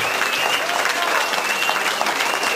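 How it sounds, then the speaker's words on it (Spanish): Audience at a cultural program applauds the fourth-place singing group, a steady, dense round of clapping from a large crowd with faint voices and a thin sustained tone beneath. "un gran aplauso al grupo, al cuarto lugar que por ahí anda"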